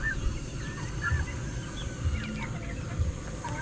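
Chickens raised on calamansi cluck and call steadily nearby on a farm, several birds overlapping in a continuous, fairly loud flock chatter with no voices.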